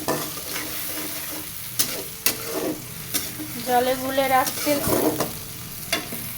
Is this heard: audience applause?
no